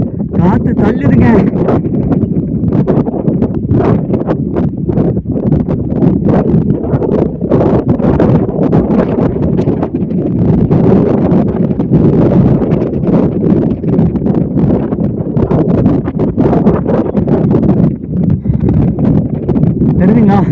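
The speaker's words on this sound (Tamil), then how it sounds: "காத்து தள்ளுதுங்க." Strong wind gusting across Kondarangi Hill, buffeting the microphone with a loud, continuous rumble, while someone talks excitedly over it.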